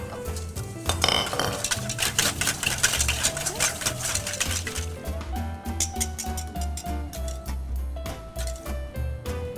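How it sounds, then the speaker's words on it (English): Vanilla and other ingredients are whisked together in a bowl in a pastry kitchen, giving a steady run of rapid metallic clinks and scrapes that continue throughout over faint background music. "let's go ahead and whisk it really well until it's all combined together"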